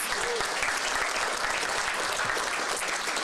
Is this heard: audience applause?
yes